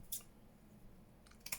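Scissors snip through thin A4-style card for a junk journal page, two short crisp cuts near the start and end over a quiet room hum.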